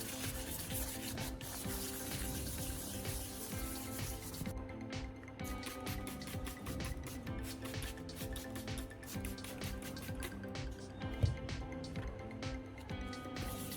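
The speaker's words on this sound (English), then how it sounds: "I'm repeating the sanding process" Hand sanding of a car headlight lens, quiet repeated rubbing strokes in a steady back-and-forth rhythm, close and soft, with brief pauses and no talk.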